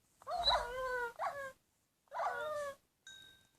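A dog in the Minecraft video game gives three short whining, yelping cries close up, the last one a thin tonal whimper.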